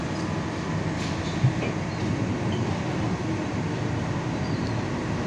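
The Pasundan passenger train runs on rails in Indonesia, giving a continuous broadband rumble and rattle heard from inside the carriage, steady and moderately loud throughout with no talking.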